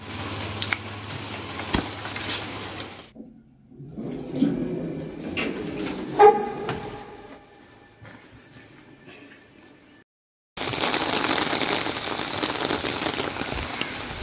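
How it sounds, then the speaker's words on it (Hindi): Dense, steady rainfall hisses loudly, drops out briefly into quieter patter and clatter, then returns at full strength. "बारिश तो अभी भरपूर हो रही है"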